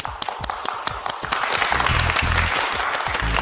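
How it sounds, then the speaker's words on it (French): Audience applauding a contestant taking the stage, sharp individual claps at first swelling into steady, full clapping, with low rumbling thumps mixed in. "Accueillons maintenant la candidate numéro 2, Yu Kiao Kiao. Vos applaudissements."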